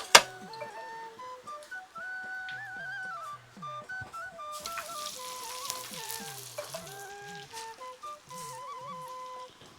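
Food fries in hot oil in a pan on the first pass of a double fry, with a steady crackling sizzle that swells midway, under a tonal, melodic background.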